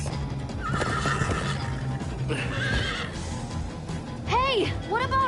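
Two loud whinnies from Minecraft: Story Mode horses ring out near the end over a dense game mix of hoofbeats, rumbling effects and background score, with a voice briefly heard earlier.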